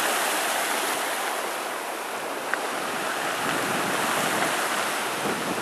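Hurricane Sandy storm waves and surge churning the Sakonnet River at Tiverton, heard as a steady, loud, broadband roar of rushing water and wind noise with no pauses and no voices.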